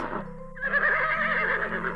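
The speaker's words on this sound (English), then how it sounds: "horse," A horse whinnies alone and close, a loud, wavering neigh that starts with a short call and swells into a longer shaky whinny lasting about two seconds.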